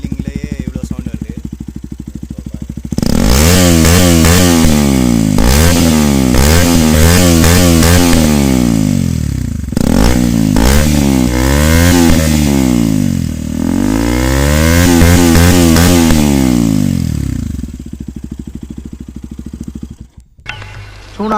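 A KTM RC 200 motorcycle fitted with an Akrapovic exhaust idles, then revs hard again and again, each loud, close blip rising and dropping sharply before it eases back to idle.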